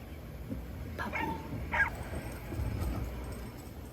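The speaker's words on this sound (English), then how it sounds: "Puppy." A puppy lets out a few faint, short yips and barks in a quiet indoor room, soft and somewhat distant, with no voices.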